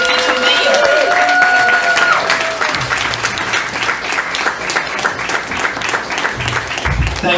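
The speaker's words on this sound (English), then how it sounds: "we gotta give a big applause to Charlie Kratovil, our candidate for mayor and our future mayor" A campaign celebration crowd in New Brunswick applauds mayoral candidate Charlie Kratovil, loud sustained clapping filling the room with scattered cheers, steady throughout.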